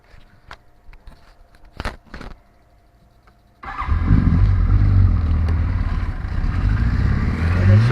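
A cold-blooded motorcycle fires up after a cold start and settles into a loud, steady, rumbling idle close by, following a few quieter clicks and mechanical knocks.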